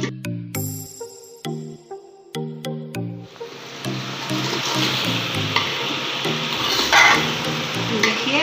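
Mutton and potatoes for aloo gosht stir-fry in a pot with a loud, steady sizzle that starts a few seconds in and continues to the end, preceded by bright plinking musical notes.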